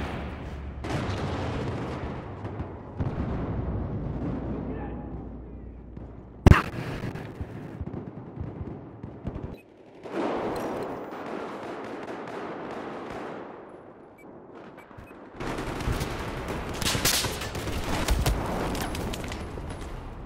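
Battlefield 4 multiplayer combat with dense rapid gunfire and heavy bursts, a sharp loud impact near the middle, then renewed sustained firing and explosive rumble toward the end, no talking.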